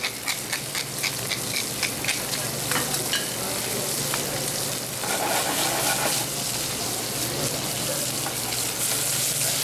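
Sculpin fish sautéing in a hot pan with cracked black pepper gives a loud, steady sizzle and crackle throughout, with faint scraping of the pan and no talking.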